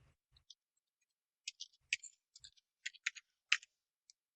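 Quiet keystrokes on a computer keyboard while entering a chart title in a spreadsheet, scattered light clicks in short irregular bursts with near-silence between them.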